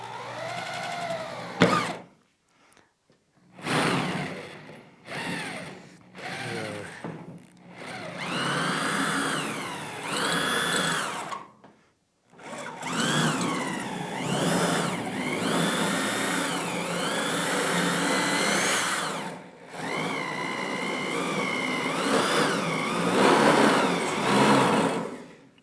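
A power drill bores a hole in an HVAC workshop, its whining motor running in several close bursts separated by short pauses, with no voices.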